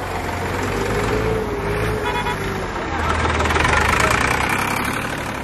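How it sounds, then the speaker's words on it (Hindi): Tractor fitted with a front blade pushing forward, a heavy diesel engine droning and rising under load, with a brief horn-like tone and people talking over it. "ये वाला जो ट्रैक्टर है इसके आगे ब्लेड लगा हुआ और ये प्रेस कर रहा है आगे ना।"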